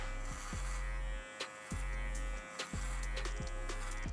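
Electric hair clipper with no guard and the lever open, cutting bulk hair clipper-over-comb for a mid drop fade; a steady close buzz runs in repeated passes, briefly dropping away between strokes.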